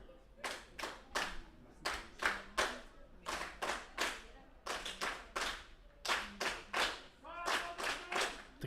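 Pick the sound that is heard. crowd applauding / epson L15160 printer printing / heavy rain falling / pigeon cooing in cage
crowd applauding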